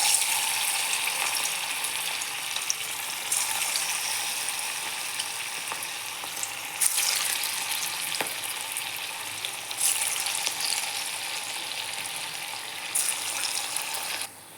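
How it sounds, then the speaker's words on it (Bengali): Bora fritters frying in hot white oil in a kadai make a steady, dense sizzle throughout, with a few soft clicks and taps from the utensil, near and even, with no talking. "এখন আমি এইটাকে বড়ার আকারে করে ভেজে নেব"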